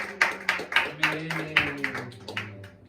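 Rhythmic hand clapping from a congregation during a Wednesday church worship service, steady beats about four per second, fairly close, with voices talking and singing over it.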